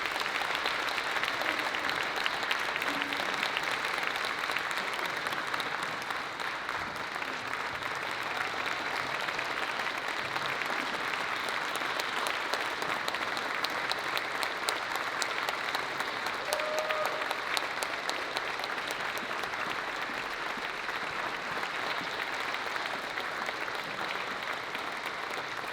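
Long, steady ovation from a gala audience at the Commonwealth North awards dinner in Alaska, honouring John Binkley: even, dense clapping that holds at a constant level from start to finish.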